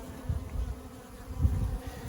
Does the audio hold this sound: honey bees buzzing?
yes